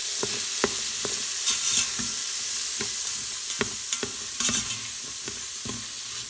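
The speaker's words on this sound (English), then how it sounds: "I have now added my celery and my onions. And I want to stir these." Celery and onions stirred and sautéing in an Instant Pot while a chuck roast is being prepared, with a steady close sizzle and repeated scraping clicks of a utensil against the pot.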